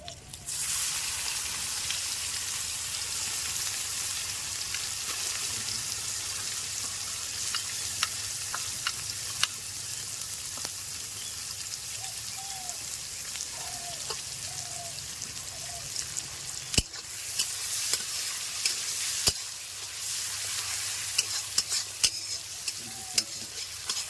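Chopped onions fry in hot oil with whole cumin seeds in a Bengali village kitchen, giving a steady, close, broadband sizzle that runs throughout, with occasional soft stirring clicks and scrapes on top.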